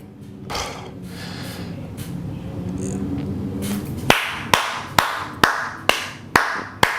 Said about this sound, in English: I just have to give a round of applause